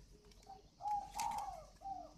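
A young spotted dove gives soft, fairly close coos in a few short phrases over a quiet background.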